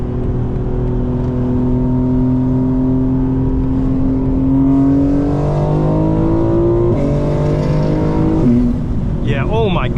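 Tuned 900HP 2025 BMW M4 Competition xDrive accelerating hard in all-wheel drive mode, loud engine climbing through gears with rising pitch and brief dips at each shift, heard from inside the car.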